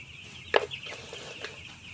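Broiler chickens of about 97 grams in a poultry house give a sharp single cluck followed by a few fainter chirps against a quiet background.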